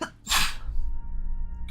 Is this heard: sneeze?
yes